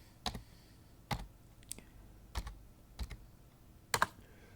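A computer keyboard being typed on at a Linux terminal, six separate, sharp, close keystrokes spread unevenly over a few quiet seconds.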